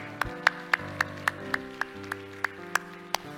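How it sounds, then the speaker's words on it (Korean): A church congregation claps together in a steady rhythm, with roughly ten sharp, evenly spaced claps over soft music underneath. "우리 하나님께 영광의 박수합시다."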